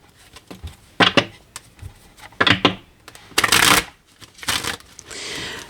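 Tarot cards are shuffled by hand in several short, crisp bursts of riffling and sliding, close and fairly loud, separated by brief pauses, with no talking.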